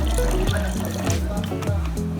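Soy sauce and vinegar pour into a pot for vegan humba, a short burbling trickle of liquid with small gurgles, close and continuous.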